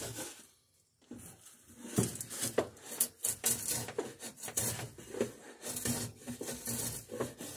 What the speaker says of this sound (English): you can see how the draw knife makes really short work of this, and it's making a much cleaner cut